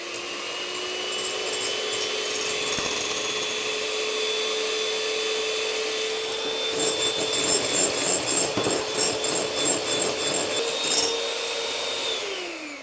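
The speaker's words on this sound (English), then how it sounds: "And on a high-speed whisk." A high-speed electric whisk beats egg whites for meringue at a Royal Highland Show cooking demonstration. It gives a steady, close motor whine throughout, and a louder, rattling beating sound joins it partway through. No one speaks.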